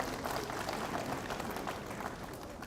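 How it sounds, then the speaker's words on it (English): Audience applause at a music festival workshop in Kenya, a fairly faint, steady wash of many hands clapping that holds evenly for a few seconds. "Tuwapigie makofi."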